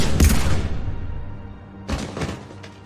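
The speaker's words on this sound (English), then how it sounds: "Now open fire." Gunfire in the Mass Effect 3 video game: a loud burst of shots at the start, a quieter stretch of rumbling reverb, then a second volley of shots near the end.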